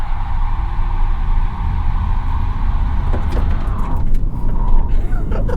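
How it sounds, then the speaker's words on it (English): A 2021 Tesla Model Y electric car launching with traction control off, its tires spinning and whirring loudly against the pavement without squealing, a steady broad rumble with road noise throughout. "It just makes a whirring sound as you cheese grate your tire."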